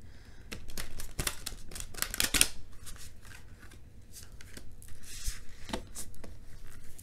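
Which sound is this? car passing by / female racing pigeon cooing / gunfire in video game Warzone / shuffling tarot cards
shuffling tarot cards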